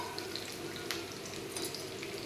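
Asafoetida, garlic and small shallots frying in hot oil, a steady close sizzle with small crackles and pops and no talking.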